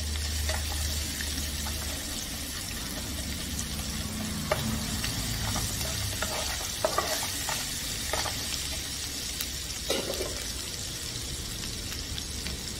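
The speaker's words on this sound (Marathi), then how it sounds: "हे सगळं आपण चांगलं परतून घेऊया।" Crushed green chilli paste (thecha) with spices sizzling and being stirred in a pan for Maharashtrian dahi kadhi, a steady close frying hiss with occasional spoon scrapes and taps.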